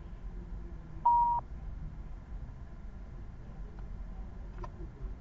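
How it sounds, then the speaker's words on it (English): A single steady electronic beep, about a third of a second long, sounds on a Cisco UC10 phone call to signal network-based call recording, over a faint background line hiss. "That tone notified us that the call is being recorded."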